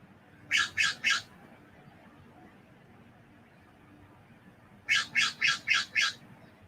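Two bursts of sharp, squawking bird calls, a quick trio and then a run of five, over quiet background noise with no talking.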